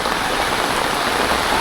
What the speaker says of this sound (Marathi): बरोबर जायच्या टायमालाच पाऊस आला आहे.